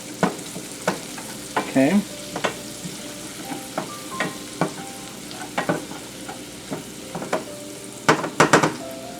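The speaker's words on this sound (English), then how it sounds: "we're just going to render the shallot down until it's almost translucent" Shallots frying in a pan over medium-low heat, a soft steady sizzle broken by frequent spoon scrapes and clinks as they are stirred, with a single short spoken word.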